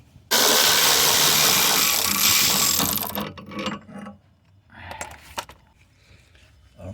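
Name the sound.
removing 14mm bolts from GMC Acadia driveshaft bracket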